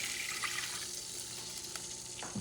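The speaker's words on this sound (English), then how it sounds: "I don't have fish broth or stock, so I'm going to go with water." Tap water running into a cooking pot for tuna ramen, a faint steady trickle and splash close by, brief and without talk.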